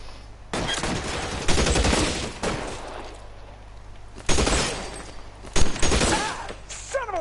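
Gunfire in the detective game L.A. Noire, heard as several loud separate shots and short volleys across a few seconds, with quieter gaps and a low steady hum between them.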